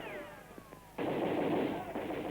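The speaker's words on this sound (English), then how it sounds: "though some firing was still going on." Gunfire during the liberation of Paris with street fighting against German snipers, heard as a rough continuous rattle of shots in old archival footage, moderately loud after a quieter opening with a falling whine.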